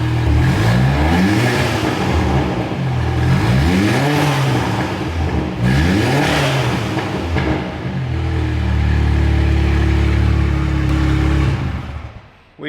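A big-turbo VW GTI with a full custom exhaust and the middle muffler cut off, revving hard several times in loud, close rising-and-falling sweeps, then holding a raspy, steady idle-to-high drone before cutting off.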